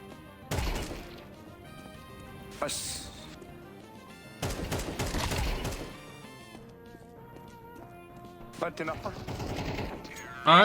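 Gunfire in the video game Counter-Strike 2, several sharp bursts of shots and impacts spaced across the clip over game sounds and background music.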